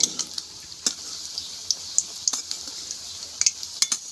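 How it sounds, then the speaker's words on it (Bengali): Mango gulgula pitha fries in oil over medium heat, a soft steady sizzle dotted with scattered sharp pops and light utensil clicks. "এটা মিডিয়াম আঁচে ভাজতে হবে, এটা যেন পুড়ে না যায়"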